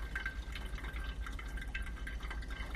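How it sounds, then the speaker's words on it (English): Water pours steadily over ground coffee in a pour-over brewer, a soft continuous trickle and splash with a low background hum, no talking. "Then you want to continue adding your water, making sure you wet all the coffee."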